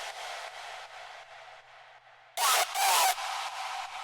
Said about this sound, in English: another main part of this drop is obviously the screeches